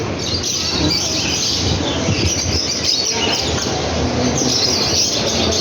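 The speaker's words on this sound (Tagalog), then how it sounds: "Ang dami ibon dito." Many caged birds chirp and tweet together at a busy pet market, a dense mesh of high calls over a steady, noisy background rumble, with no clear speech.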